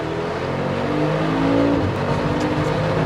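A 700-horsepower Mercedes G63 Brabus engine revs while driving, a loud, close, steady rumble that swells and holds with no talking over it.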